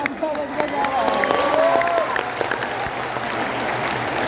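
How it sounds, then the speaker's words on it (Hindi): Crowd applause at a large outdoor political rally in Jamui, Bihar, a dense steady clapping mixed with crowd noise that holds throughout, with a voice briefly heard over it. "मिलकर तालियां बजाएं।"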